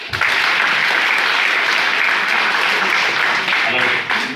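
A seminar audience breaks into loud, dense applause that runs for about four seconds, with many hands clapping at once and a voice surfacing faintly near the end.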